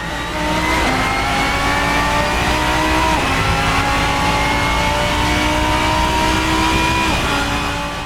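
A GT3 race car engine in the racing game Assetto Corsa, revving loud and close with rising pitch through several quick upshifts, steady and without talk.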